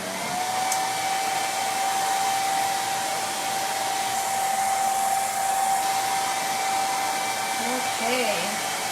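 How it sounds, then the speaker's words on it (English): A hair dryer blowing on a craft pumpkin, a loud steady whirring hum held close and continuous throughout with a faint thin whine riding on top. "Alright, let's get the dryer out."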